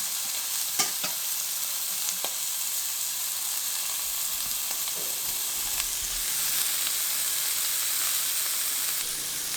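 Meat browns in a hot pan with a loud, steady sizzle and hiss throughout, broken by a few sharp crackles and pops and occasional scraping stir sounds.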